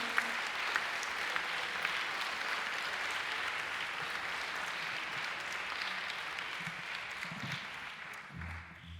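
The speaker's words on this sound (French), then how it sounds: "On peut les applaudir. Bravo à eux." A concert audience applauds the backstage crew in a steady, moderately distant wash of clapping that holds evenly for several seconds before tapering near the end.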